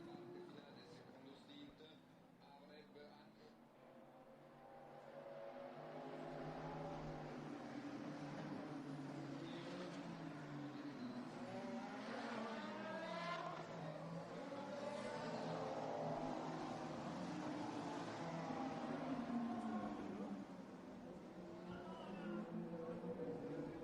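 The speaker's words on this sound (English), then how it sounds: "Enjoy the sound of the cars as they are going through." Endurance race cars at Imola roll through the pit lane behind a Porsche safety car, engines rising and falling in overlapping passes while a commentator talks over them.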